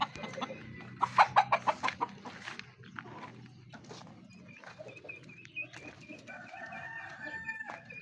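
Pet chickens being fed cluck in a quick burst of short calls nearby, followed by scattered clucks and a drawn-out rooster crow, all moderately loud in an otherwise quiet outdoor setting.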